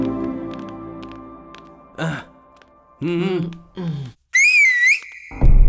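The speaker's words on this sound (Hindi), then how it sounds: "सीटी मार के बुलाता" A person whistles to call someone during a Hindi-dubbed South Indian action movie scene, several short rising and wavering whistles in bursts, with other brief vocal sounds between them.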